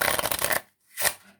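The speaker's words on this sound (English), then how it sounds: "you can give these cards a shuffle if you want." A deck of playing cards is riffle-shuffled up close, a rapid flutter of card edges that stops, followed by a softer brief riffle or bridge.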